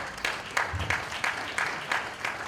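Steady applause from a crowd, with brief louder swells of clapping recurring every half second or so, at moderate volume.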